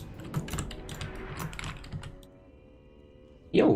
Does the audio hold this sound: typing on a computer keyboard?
yes